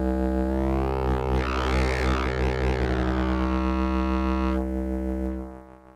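A Kastle Drum synthesizer patch with its envelope merged into the first low-pass gate (LPG) holds a loud, steady, buzzing tone with a sweeping, shifting timbre in the middle that then settles and fades away at the end.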